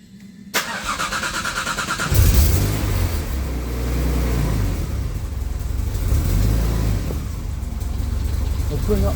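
A Jaguar AJ30 VVT engine cranks, catches with a loud burst and then runs at a steady, close idle with slight changes in revs.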